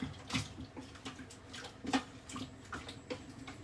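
Water is added to a pan of potatoes for boiling: faint, intermittent splashing and trickling with small irregular bursts, close by and without talk.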